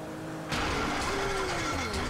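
Boat engine in Grand Theft Auto V revving up abruptly after a quiet moment, then labouring with a rough, wavering drone and uneven pitch as it struggles, fairly loud.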